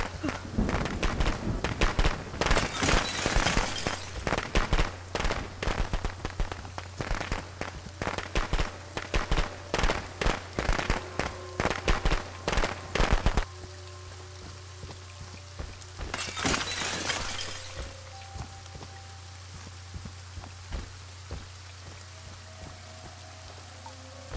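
Rapid, dense crackling and popping bursts of video game fireworks in Friday the 13th on Xbox One go on for several seconds, then fade into sparser crackles against a low steady hum.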